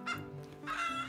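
Laying hens clucking on a large egg farm with dairy cows, a dense flock of overlapping clucks and calls, close and steady, rising again in a second louder burst.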